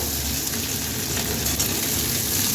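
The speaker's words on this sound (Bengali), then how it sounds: "এটাকে আমি খানিকক্ষণ নেড়ে চেড়ে নেব।" Chopped onions fry in hot oil in a pan and are stirred while a South Indian sambar dal is prepared. A steady, dense sizzle holds close and loud throughout, with no talk over it.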